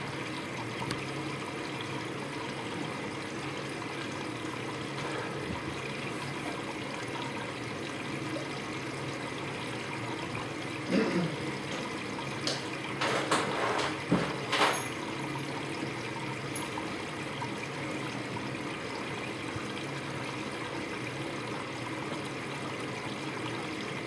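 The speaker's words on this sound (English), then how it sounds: "so I will not be in here when the machine washes" Water runs steadily into an Electrolux W455H washing machine during a 60 °C prewash of bedding, a constant hiss and trickle throughout with a few brief clunks midway.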